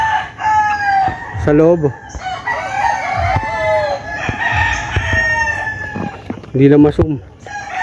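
Several young roosters (stags) crow in repeated, overlapping cock-a-doodle-doo calls, close and loud, with someone talking between and over them.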